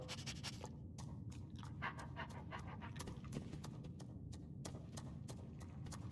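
A dog pants in Skyrim, with rapid, steady breathy puffs running through the whole stretch at moderate volume, alone and without talk.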